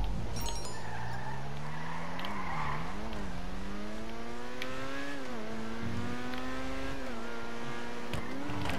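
A car drifts around a corner in a video game, its engine droning in a steady rising and falling whine with a faint tire squeal, close and continuous throughout.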